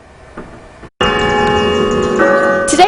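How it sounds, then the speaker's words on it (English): Bells ring in Cisco, Texas, a loud, sustained metallic peal with rich lingering overtones that starts abruptly after a brief quiet and keeps resonating, with no talking. "Today, these bells can be heard ringing off the walls of the Cisco Chamber of Commerce"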